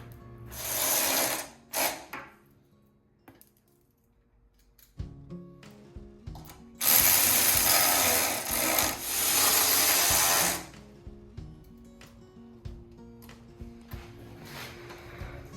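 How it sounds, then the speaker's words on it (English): A ratchet tightening 8mm mounting bolts on a Chevrolet Tahoe hybrid battery pack, heard as close, loud bursts of rapid clicking separated by quiet pauses, with the longest run in the middle. "we're going to be installing the 8mm mounting bolts along the bottom of the pack"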